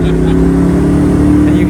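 A Koenigsegg CC850 manual hypercar accelerates hard, its engine holding a loud, steady droning tone heard from inside the cabin for under two seconds.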